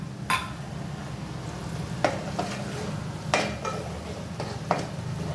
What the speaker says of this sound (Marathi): वाटणही एक 3 ते 4 मिनटं व्यवस्थित तेल सुटेपर्यंत परतून घ्यायचं आहे